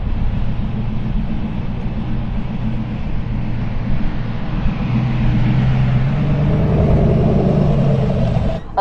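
Devel Sixteen hypercar driving on a track, a loud, steady engine drone with low rumbling harmonics that rises in pitch as it accelerates toward the end, heard from inside the cabin with no talking.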